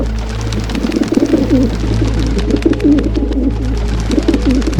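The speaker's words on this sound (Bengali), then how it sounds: "আকাশের দিকে যখন দেখায় ওখানে অনেকগুলো পায়রা উড়ছিল" Pigeons coo repeatedly in soft, rolling phrases over a constant low hum, fairly close and continuous.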